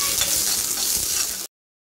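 Garlic slices and capsicum fry in a pan with a loud, dense sizzle and stirring scrapes, holding steady for about a second and a half before cutting off abruptly.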